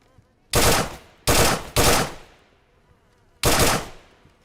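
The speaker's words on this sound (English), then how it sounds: "They're shooting at me, but I'm not shooting back." Four loud bursts of automatic gunfire from a 5.56-calibre weapon crack out in the survival game DayZ, aimed at the player sheltering behind a shed; each burst is sharp, about half a second long, with a ringing tail, and irregular gaps separate them.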